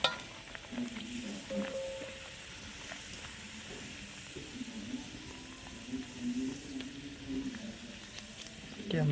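A small amount of oil frying in a pan beside freshly made luchi, a soft continuous sizzle with faint stirring, heard close under a quiet background and a hint of voice.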